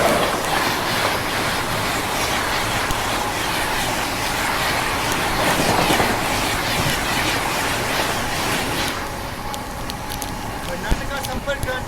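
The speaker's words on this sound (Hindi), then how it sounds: "ये क्रॉस हो रही है कर्नाटका संपर्क क्रांति एक्सप्रेस" Karnataka Sampark Kranti Express train passing close by with steady loud rumble and rolling wheel clatter throughout, easing slightly toward the end, with faint voices mixed in.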